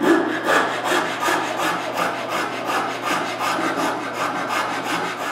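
A wood rasp smooths the rough bottom of a notch cut between two saw kerfs in a wooden tripod part, giving steady, rhythmic back-and-forth scraping strokes, close and loud, with no talk.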